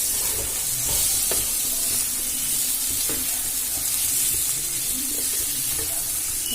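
Steady sizzling of chickpea lentils frying in a pan, with occasional scraping and stirring clicks throughout.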